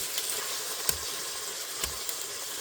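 Boneless chicken thighs sizzle steadily in a hot Instant Pot, a broad bright frying hiss with two soft thumps as pieces are turned over with tongs.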